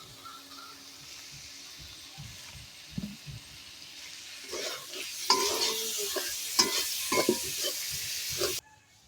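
Oil sizzles in a pan while pumpkin-leaf fish dish ingredients are fried: a quiet start with light stirring taps, then a loud, crackling sizzle builds with scraping stirs before cutting off abruptly.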